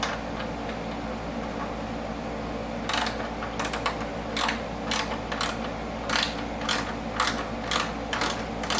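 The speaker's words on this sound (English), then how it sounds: "So I'm just doing a socket like that. I'll put the wrench on it, and then I can tighten it down." A ratchet wrench tightens a lock nut while a carbon front splitter is fitted to a C8 Corvette Z06 or E-Ray, giving a series of quick metallic clicking bursts over a steady background hum, with no talk.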